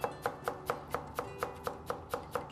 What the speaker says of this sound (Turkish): ince ince doğrayalım.